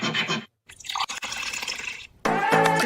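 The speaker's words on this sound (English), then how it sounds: "it was actually pouring a pitcher of water into a glass." Water is poured from a pitcher into a glass, played back sped up, giving a rapid gurgling, bubbling fill in short bursts with brief gaps, close and clear with no voices.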